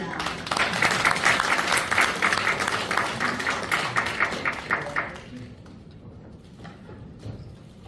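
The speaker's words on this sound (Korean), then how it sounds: "여러분 큰 환영의 박수를 부탁드립니다." Dense audience applause at a seminar agreement-signing ceremony, loud and sustained for about five seconds before dropping to a few scattered claps and quiet room noise.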